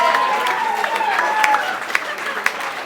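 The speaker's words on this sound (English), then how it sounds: "give a huge round of applause to Camilo Alvear." A roast audience applauds a comedian being introduced, a brief burst of clapping and crowd noise that fades under a speaking voice near the end.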